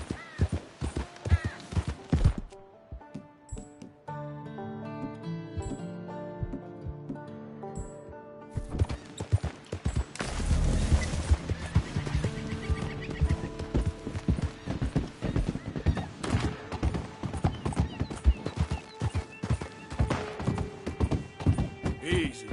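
Horse hooves clip-clop steadily while a rider travels in Red Dead Redemption 2, a close, even rhythm broken by a short pause, with a whinny and brief talk along the way.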